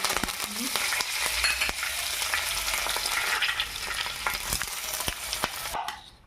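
Loud, continuous sizzling and spitting of curry leaves frying in hot oil with cumin, with sharp pops and crackles scattered throughout before it fades at the end.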